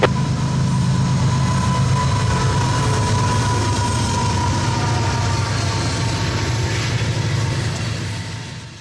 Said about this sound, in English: a Tampa electric coal train has broken the morning lull